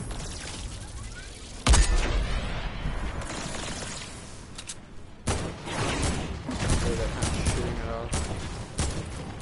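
Video game gunfire aimed at a UFO, with rapid bursts and sharp shots over a busy, roaring game soundscape, loud and close, mixed with voices talking.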